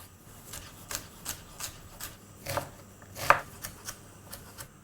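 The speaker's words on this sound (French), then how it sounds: "On va tailler cette garniture finement en faisant des petits cubes." A knife chops onions, carrots and celery into small cubes on a board, making a quiet, slightly irregular series of close taps and thuds, with no voices.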